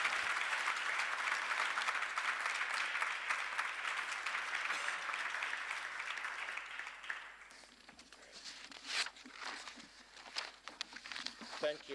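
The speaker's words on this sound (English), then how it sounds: "One more round of applause," A crowd applauds loudly for several seconds, then the clapping thins and fades into scattered claps and shuffling, with voices murmuring underneath.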